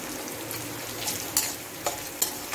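Potatoes frying in a pan sizzle continuously at close range, with several sharp clinks and scrapes as they are stirred.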